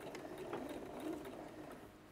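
A sewing machine stitches fabric with a quarter-inch seam, back-stitching at the start and end, a soft steady whirring close by with slight shifts in speed as the stitch direction changes.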